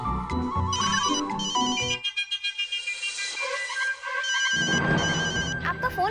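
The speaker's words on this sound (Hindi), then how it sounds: "आपका फोन बज रहा है।" Phone ringtone ringing in repeated melodic bursts, close and clear, with a voice briefly heard over it.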